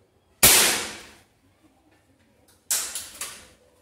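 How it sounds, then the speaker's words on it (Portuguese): Rossi Dione air rifle firing pellets at a tire, two sharp close cracks with short decaying hiss, the second followed by quick clattering, no voices. "Disparo com chumbinho"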